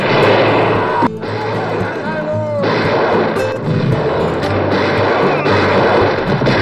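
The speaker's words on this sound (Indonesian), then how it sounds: "Penembakan Moore memicu baku tembak brutal." Gunfire in a film battle scene between outlaws and Mexican soldiers: loud, close bursts of shots and cracking impacts, with blasts and crashes that keep running and layered dramatic sound and voices beneath.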